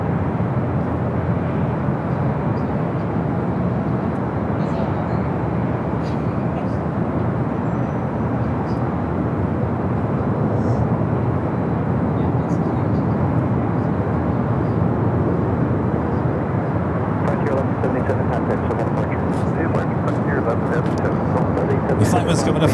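Delta Boeing 737-800 jet at LAX airport, a loud sustained engine roar filling the whole stretch with a steady broadband rumble, heard alongside a talking voice.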